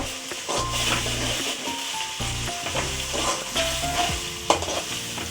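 Ingredients for a South Indian fish curry (meen kulambu) stirred and sautéing in a hot pan, with a steady loud sizzle, scraping stir strokes and a faint melodic tone running throughout, no talk.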